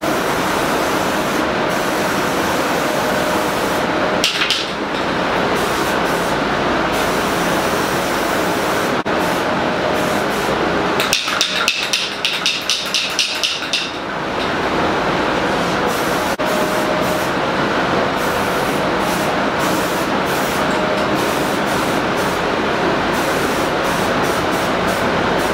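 A spray gun lays down a second coat of primer on Honda parts, a loud continuous hiss running nearly nonstop, broken by a few brief pauses and a short sputtering stretch.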